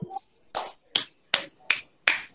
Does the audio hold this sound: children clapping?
yes